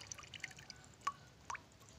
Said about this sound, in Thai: ให้น้ำไหลออกมาให้หมด